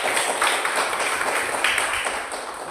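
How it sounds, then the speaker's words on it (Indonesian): Classroom applause for the first group of students, a dense patter of many hands clapping at moderate volume throughout. "Tepuk tangan untuk kelompok 1"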